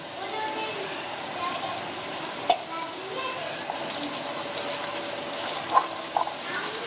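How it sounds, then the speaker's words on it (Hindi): Cumin seeds sizzle in oil with softened onions for a chana dal karela dish, a soft steady frying hiss with a couple of sharp taps of a spoon against the pan, no voices. "अब इसके अंदर आधा चम्मच ज़ीरा डाल देंगे।"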